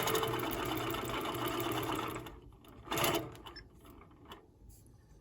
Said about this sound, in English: now I'm gonna continue basting down my edge